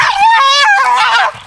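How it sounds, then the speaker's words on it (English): Excited dogs barking, yipping and whimpering at close range as they are let out outdoors, a continuous run of high, tonal yelps that cuts off near the end. "I've got to release the mad dogs"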